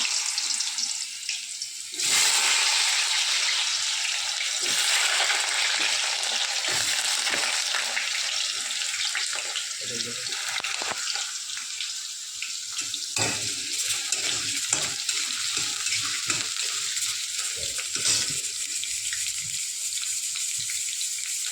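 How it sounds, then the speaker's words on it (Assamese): Steady loud sizzling of potatoes frying in hot oil, a constant crackling hiss with occasional pops and stirring, no voices. "আলুখিনি ভাজি লওঁ।"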